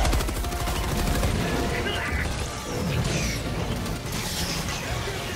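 Machine gun fire in the video game Helldivers 2: dense, loud bursts of rapid automatic shots and explosive crashes filling the whole stretch.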